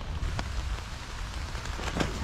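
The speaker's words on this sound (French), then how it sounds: "Je sais pas si tu vas voir, mais il pleut." Rain falls during a wet motorcycle road trip, a steady close patter of drops on surfaces with a few louder taps, and no voices.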